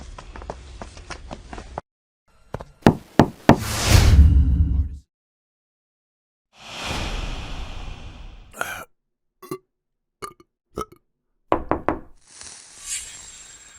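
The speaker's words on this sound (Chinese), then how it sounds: "我来敲门" Knuckles rap on a suspect's apartment door during a police arrest operation: a quick cluster of sharp knocks, a pause, then several more spaced knocks, close and distinct against near silence.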